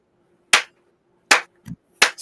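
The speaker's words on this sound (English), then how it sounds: "Slow clap." Three slow, deliberate single claps spaced well apart, each sharp and near, with a soft thud between the second and third and silence around them.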